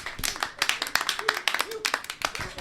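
Live podcast audience clapping at a recorded show, a dense burst of applause lasting a couple of seconds with some voices mixed in.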